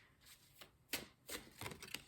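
Oracle cards being laid out and handled on a table: soft, quiet scattered slaps and shuffling rustles, several brief card-on-surface taps in uneven rhythm, close and faint, with no talk.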